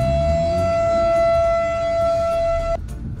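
A loud, steady siren wail holds a single sustained tone close by for nearly three seconds, then cuts off abruptly, leaving a quieter background. The setting is a dock diving event with golden retrievers.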